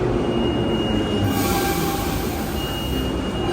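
A Soviet-style Tashkent metro train, like the Moscow trains, runs through Amir Timur Station with a loud, continuous rumble and a steady hum, close by, with no voices.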